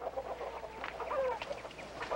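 Chickens clucking in a hen house, a close cluster of short, busy clucks and squawks overlapping one another, fairly quiet.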